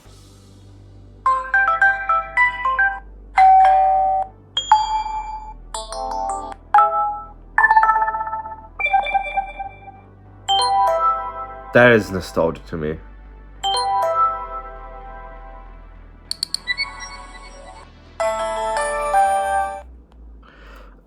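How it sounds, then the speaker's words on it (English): Notification tones from an Alcatel OneTouch Elevate phone play one after another as short chimes, dings and melodic jingles separated by brief gaps, with someone talking briefly partway through. "How about the notification sounds?"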